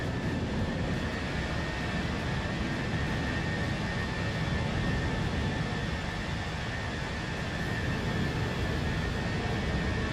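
An airliner climbing after takeoff in a flight simulator, a steady, dense engine roar with a constant high tonal whine, loud and unbroken throughout with no talk.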